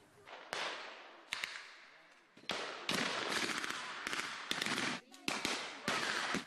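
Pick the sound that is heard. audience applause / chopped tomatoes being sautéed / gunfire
gunfire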